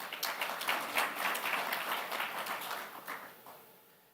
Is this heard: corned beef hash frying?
no